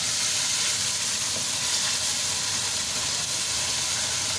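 Garlic and ginger fry in a karahi for beef keema, giving a steady close sizzle with hissing oil and steam that holds evenly throughout, with no talking.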